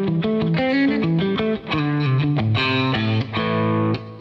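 Electric guitar played softly through a compressor pedal set to full compression with the sustain raised, a steady run of picked notes and chords holding an even, squeezed level with no talking.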